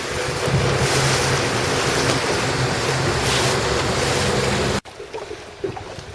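Gusty wind roars across the microphone along with rushing water while an RS700 dinghy sails on Lake Garda. The sound is loud and constant, then drops sharply to quieter splashing and lapping.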